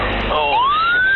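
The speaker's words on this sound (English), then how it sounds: "soon sirens start sounding off, while the aircraft's nose points skyward" Sirens wail and sweep upward in pitch as a jet takes off from a runway, a loud rising tone cutting over rumbling engine noise.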